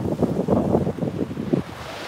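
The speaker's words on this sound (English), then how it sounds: "Here comes the wind again." Wind buffeting an outdoor microphone by the ocean, low rumbling gusts in uneven pulses over a faint surf background, brief and fairly loud with no talk.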